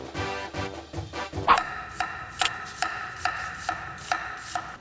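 Knife cutting an onion into half-moon slices on a cutting board, a quick burst of cuts followed by steady, evenly spaced sharp chops, close and clear.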